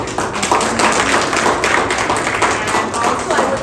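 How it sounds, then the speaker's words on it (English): An audience applauds the legendary artist Prabhakar Kolte at an art show opening, a dense, steady patter of many hands clapping throughout. "And we just applause to him."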